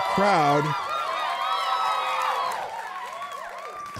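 Cheering crowd sound effect on a live show, a burst of distant whooping and applause with voices rising and falling, starting loud and easing off toward the end.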